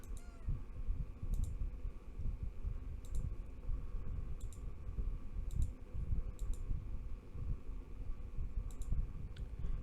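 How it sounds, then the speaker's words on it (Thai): Computer keyboard keys clack in short, sparse bursts of crisp clicks at 3 a.m. in a quiet room, scattered irregularly over a low background hum. "มันกดคีย์บอร์ดอีกแล้ว"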